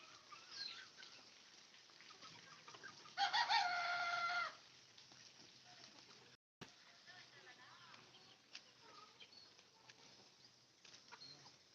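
A rooster crows once at moderate distance, a loud drawn-out call standing out from quiet outdoor background noise.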